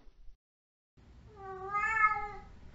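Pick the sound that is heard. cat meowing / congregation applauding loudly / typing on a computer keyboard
cat meowing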